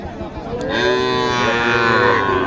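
A single cow lets out a long, loud, close moo at a rural cattle market, the Chakgouri haat near Naogaon, with faint crowd noise behind it.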